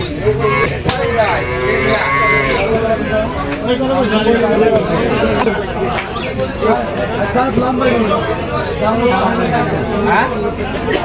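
Calves and cattle at a livestock market moo repeatedly and loudly, several calls overlapping, over steady crowd chatter and nearby voices talking.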